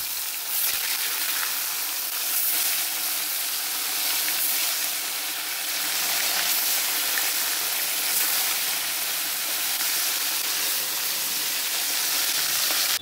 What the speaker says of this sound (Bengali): পার্শে মাছের ঝালটা করব, সেই জন্য পার্শে মাছটা আগে ভেজে নিচ্ছি।